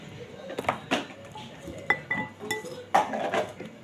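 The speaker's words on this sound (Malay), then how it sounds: "ni kita alih mangkuknya ke sini." Dishes and pots clink and clatter as a bowl is shifted among them while making fruit cocktail, with a few sharper knocks of crockery close by.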